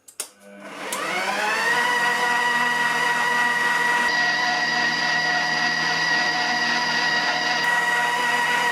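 An Aldi Ambiano MD 18684 800 W stand mixer running at speed 2 with 1 kg of flour and a teaspoon of salt, starting with a brief clatter then settling into a loud, even motor whine that holds steady to the end.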